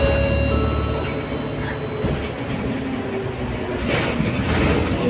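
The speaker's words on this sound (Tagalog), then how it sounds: "Ayan yung MRT ng Bukit Panjang." A Bukit Panjang MRT train in Singapore runs in rainy weather, giving a continuous rumbling rail roar with faint squealing tones from the wheels, steady and fairly close, with no talking.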